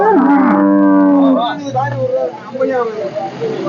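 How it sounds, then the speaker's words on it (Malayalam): Cattle lowing and mooing close by at the Kadayam cattle market, a long drawn-out call followed by shorter grunting moos amid background murmur. "ഈ വീഡിയോയിൽ കണ്ടുകൊണ്ടിരിക്കുന്നത് ഇന്നത്തെ ചന്തയ്ക്ക് എത്തിയിട്ടുള്ള പശുക്കളാണ്"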